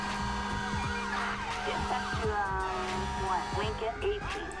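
A wailing ambulance siren sweeps up and down among layered traffic sounds in the video game GTA 5 with the LSPDFR mod, with someone talking over it in French throughout.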